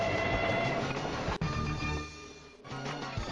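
A train runs in the video game WHO dunnit, giving a steady rumbling rail roll with a brief dropout, then continuing at a lower level, with no talk over it.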